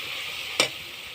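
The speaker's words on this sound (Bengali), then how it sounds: "এবার মশলাটা ভালো করে কষিয়ে নেব।" Spice paste with salt and turmeric sizzles steadily in a pan for a duck curry, and one brief scrape of stirring cuts through halfway before the hiss settles back.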